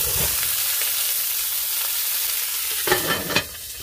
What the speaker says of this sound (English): So put in your vegetables. It's gonna start popping.